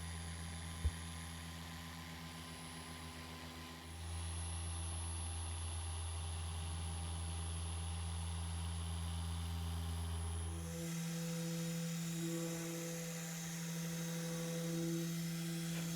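A machine polisher with a polishing pad works Angelwax pre-wax cleanser polish across a car panel, a steady droning hum whose pitch drops and then rises again as the speed shifts, close and continuous with no talking.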